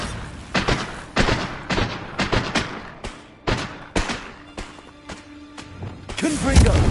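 Bombarda blasting spell cast in Hogwarts Legacy: a rapid series of punchy thumps and blasts in irregular bursts, loud and close, with a low rumble swelling at the end.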